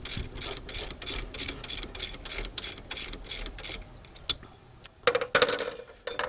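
A ratchet loosens a 14 mm bolt while the alternator is being replaced on a 2004 Toyota Avalon. A close, rhythmic run of quick clicking strokes plays for several seconds, followed by a few sharper metallic clanks, with no speech.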